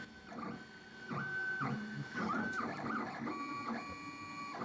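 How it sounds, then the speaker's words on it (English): A 3D printer runs steadily at moderate level, its stepper motors producing pitched whines that rise and fall in short moves, with a continuous mechanical hum and no talking. "3D printer. That's what it sounds like to me too."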